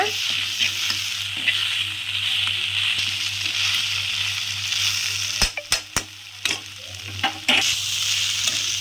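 Goat brain frying on a high flame, stirred in a pan; a continuous close sizzle with scraping stir strokes and several sharp knocks of a spoon against the pan, plus a low steady hum beneath.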